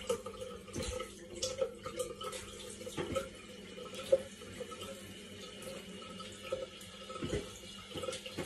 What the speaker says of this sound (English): what we need to do is we need to wash our hands.